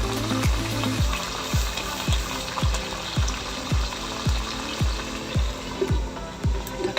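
Pieces of pork sizzle loudly in a hot pan for a homemade budget dish, a steady crackling hiss overlaid by rhythmic scraping stirs roughly twice a second, close up with no talking.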